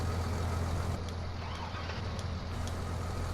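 Tractor engine in Farming Simulator 19 running steadily at a low idle, a continuous near rumble with a deep hum and no talk over it.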